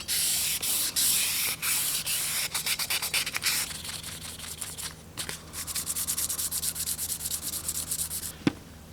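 Hand sanding of a steel WW1 pattern 1907 sword bayonet blade with fine 1000-grit paper: close, steady rasping strokes, fast and continuous at first, then shorter rhythmic back-and-forth passes, ending with a sharp tap.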